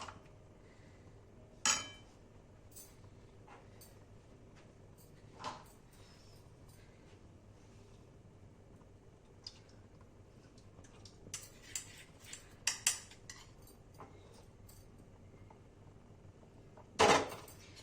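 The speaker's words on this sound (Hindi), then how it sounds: "देखिए इसमें इलायची, बादाम, किशमिश डाल देंगे, तो चलाते रहेंगे" Metal spoon scraping and clinking in a pot while coconut kheer with cardamom, almonds and raisins is stirred: a few sharp, scattered clinks over a quiet background, with a louder cluster near the end.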